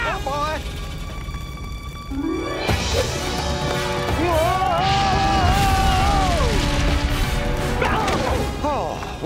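A building full of explosives blows up in an animated Tarzan cartoon. Heavy crashing booms and rumbling debris mix with musical swells and tones, while characters cry out over the chaos.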